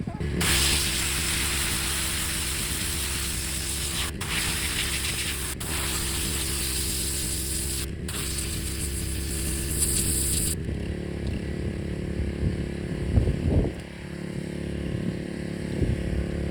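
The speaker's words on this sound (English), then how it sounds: "Now this is a lot better in here, a lot easier to pressure wash and get all that stuff out" Pressure washer spraying out the inside of an animal skull for a European mount, a loud steady hissing spray with brief cutoffs that stops near the end, leaving quieter handling noises.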